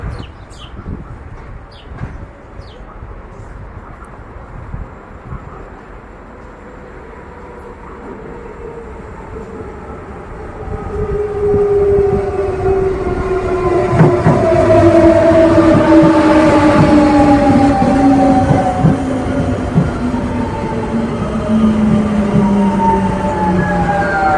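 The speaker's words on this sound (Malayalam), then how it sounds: "ഈ ട്രെയിനാണ് എനിക്ക് പോകേണ്ടത്" A train rumbles in, its roar growing louder and heavier after the first ten seconds, with long gliding whine-like tones riding over the steady clatter.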